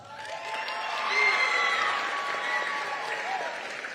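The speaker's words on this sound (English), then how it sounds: "if you could applaud for them for a little bit" An audience claps at a school district spring concert for outstanding seventh and eighth grade students, the applause swelling to a peak and then holding steady with a few voices underneath.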